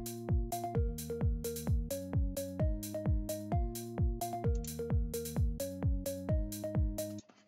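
Hi-hat pattern in a house beat made in FL Studio, crisp ticking hats riding over a steady four-on-the-floor kick and bass notes in a looping, even rhythm, alone without talk.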